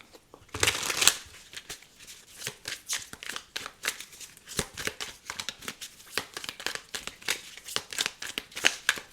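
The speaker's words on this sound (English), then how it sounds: "Just shuffled the deck in reverse." A deck of tarot cards being shuffled up close, with rapid riffling and flicking bursts repeating in an uneven rhythm, one louder flurry near the start and no talking.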